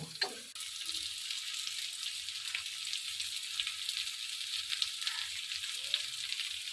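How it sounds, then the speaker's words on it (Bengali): Fried cauliflower, potato and bori stirred with spice masala in a hot pan for a vegetarian curry: a constant bright sizzling hiss with a few soft scraping stirs, close and even, no voices. "এবার আমি ভেজে রাখা সবজিগুলো দিয়ে দিলাম দিয়ে বেশ কিছুক্ষণ নাড়াচাড়া করে নেব"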